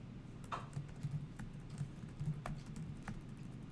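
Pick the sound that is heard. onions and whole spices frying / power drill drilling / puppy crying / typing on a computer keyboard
typing on a computer keyboard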